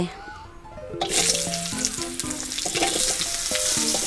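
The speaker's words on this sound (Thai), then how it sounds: "เดี๋ยวเรามาคั่วเครื่องสดกัน ใส่น้ำมันพืชไปนิดนึง" Fresh curry paste for chicken massaman stir-fried in a little vegetable oil: a loud, steady sizzle and spatter bursts in after a quiet second, with a spoon scraping and stirring the pan throughout.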